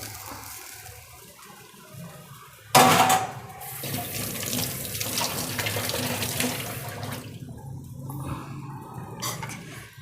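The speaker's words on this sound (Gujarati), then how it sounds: "ગેસને બંધ કરીને પછી આ પાણી નાખી દઈશું" Water poured into a pan of hot ghee with the gas switched off, a sudden loud rush and splash followed by steady hissing and bubbling that fades slowly, close by, no talking.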